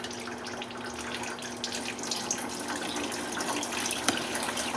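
Coolant drains steadily out of a BMW E46 six-cylinder engine into a catch bucket, a continuous, even gushing pour with no talking.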